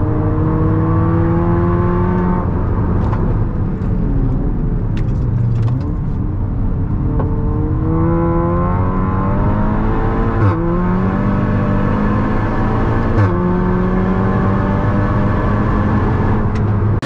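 A Volkswagen Golf GTI Clubsport is driven on the road to a night track day, its engine note climbing through repeated revs with clear gear shifts between pulls, heard from inside the car.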